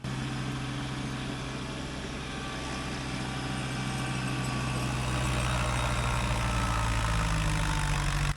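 A Kubota LX2610 compact tractor engine runs at a steady idle, a constant low rumble with a deep hum, growing slightly louder near the end, with no talking.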